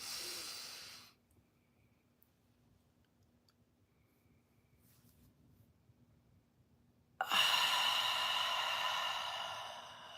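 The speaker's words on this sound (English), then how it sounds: "Let's take a deep breath in through the nose." A deep breath in through the nose and out, heard as a short airy exhale, then a long near-silent pause, then a loud, rushing breath close to the microphone.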